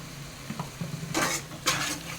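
Masala with a pinch of turmeric being stirred in a pan, soft scraping strokes with two brief sizzling bursts, close and fairly quiet with no talking.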